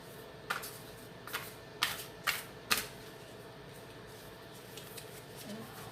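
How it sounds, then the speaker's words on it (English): Oracle cards shuffled right beside the microphone: a few sharp riffling bursts in quick succession, then quieter soft handling, close and fairly crisp over a low background hiss, with no talk. "I sit here and shuffle away and I forget how close it is to the mic"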